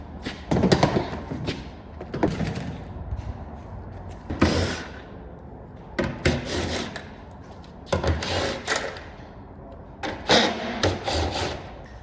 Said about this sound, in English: And you just sanding it like that, Paul?